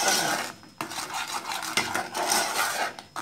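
A utensil scraping and stirring chocolate cake syrup in a pan, a steady rasping metallic swirl with a few sharper clinks, close and alone.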